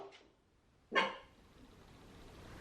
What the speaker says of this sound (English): My dog has been barking at nothing for a couple days